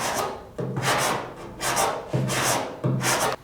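Block sanding the trunk lid of a 1973 Oldsmobile Cutlass 442, with four rough rasping strokes of abrasive on sheet metal and old paint, each a loud sustained rub with short pauses between, and no talking.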